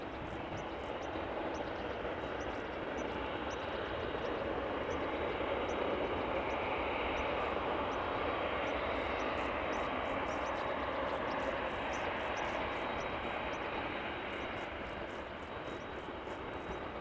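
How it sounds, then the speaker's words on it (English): A Cathay Pacific Boeing 747 and a Delta A330 taxi at Amsterdam Schiphol Airport, their engines a steady broad rumble and rush that swells slightly in the middle and stays constant throughout. "Getting an up-close and personal shot of the Cathay Pacific 747 and the Delta A330 behind it."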